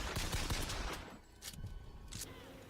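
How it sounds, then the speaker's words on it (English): Weapon fire from the BioShock Infinite video game comes in a burst of quick, heavy shots up front, followed by a couple of sharper isolated bangs over a quieter background. "how much I love the sound that the pistol makes"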